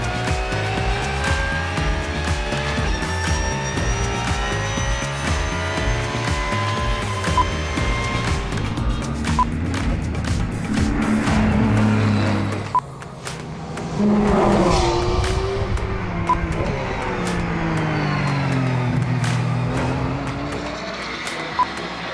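A race car laps a track on Hanguk tyres, with a loud, sustained engine drone that shifts pitch through gear changes and corners, briefly dipping before building again.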